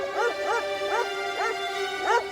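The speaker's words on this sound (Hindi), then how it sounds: "छोटे साइज का डॉगी है, फिर ये इतनी जोर से कैसे भौंक रहा है?" A small dog barks loudly, giving about five sharp, high yips in a steady rhythm, close and clear with no talking.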